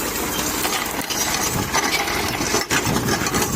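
A farm tractor engine runs steadily and close by while fallen wood is being cleared, a continuous rough drone with a few brief dips and knocks.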